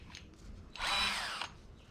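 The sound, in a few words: power drill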